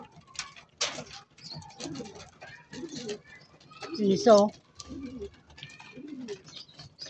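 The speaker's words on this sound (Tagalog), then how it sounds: "meron dito dumayo na kalapati sa atin" Pigeons coo close by in soft, repeated rolling calls spread across several seconds, mixed with someone talking.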